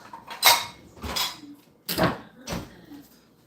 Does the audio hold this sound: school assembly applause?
no